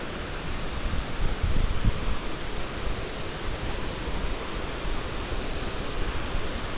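A big river near Dharan rushes and roars in a steady, broadband wash, continuous and fairly loud from start to finish with no voices.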